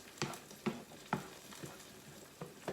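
Spaghetti sauce reduces in a pan with a soft sizzle, broken by six quiet, evenly spaced scraping stirs; faint and close, without speech.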